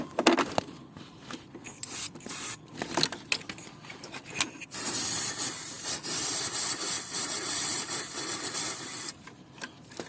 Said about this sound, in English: I'll spray some silicone oil on top.